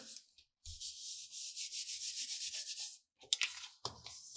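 Paper trimmer blade sliding across paper while cutting collage card pieces, a steady close scraping rasp lasting a couple of seconds, followed by short clicks and taps of the trimmer.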